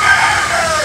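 A rooster crows once, a loud, close and strained call that fills the brief moment, with no voices over it.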